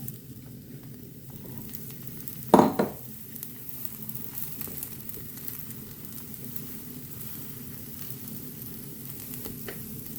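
Eggplant pieces frying in a little oil give a steady soft sizzle, broken near the start by a brief clatter as the pieces drop or are moved in the pan.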